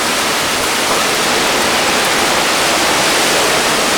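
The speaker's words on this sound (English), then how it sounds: "We're about ready to hit the brunt of the storm." Hurricane Charley's 2004 storm roars with relentless wind and driving rain, a loud, dense, unbroken rush of noise filling the entire stretch without any voices.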